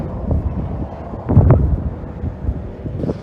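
Strong desert wind blowing dust near Blythe, California during a monsoon storm, gusty buffeting roar against the microphone that swells in the middle, close and unsteady, with no talk.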